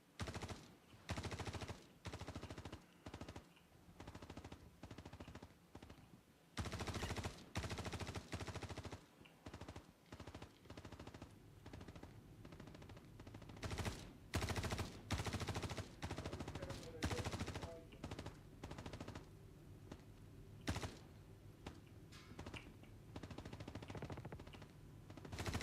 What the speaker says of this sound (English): There's a hell of a lot of gunfire